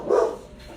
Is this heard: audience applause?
no